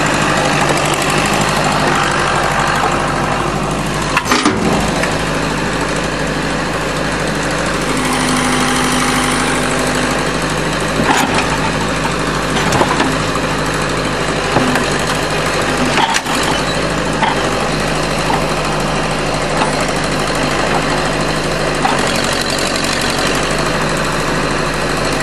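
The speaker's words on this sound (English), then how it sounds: "this is Pug's first time pretending he's Jen operating the back of a tractor like this." A tractor engine runs continuously while hauling scrap cars to the scrapyard, a loud, close, knocking diesel drone with occasional sharp clanks and thumps over roughly twenty-five seconds.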